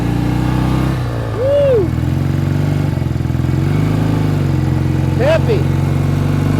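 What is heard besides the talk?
1967 BSA Spitfire Mk III motorcycle engine riding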